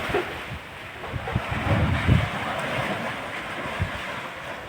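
Sea waves surge and break against rock in a narrow coastal gorge at low tide, a broad, rumbling wash rising and falling over steady wind-like roar, with no voices.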